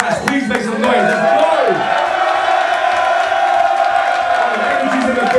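A rap battle crowd cheering and hollering, a loud sustained roar of voices with shouts and whoops rising after a brief burst of speech at the start.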